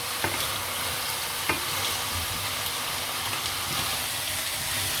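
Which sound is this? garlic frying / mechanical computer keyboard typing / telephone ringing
garlic frying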